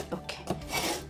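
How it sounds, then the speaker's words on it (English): A knife is sharpened by a grill while cooking goat meat, with a few quick rasping strokes of metal scraping in succession, close and fairly quiet. "Let me sharpen my knife."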